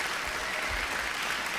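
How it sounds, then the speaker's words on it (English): A quiet, steady patter of clapping, faint and even, lasting a moment. "That gets a round of applause right there."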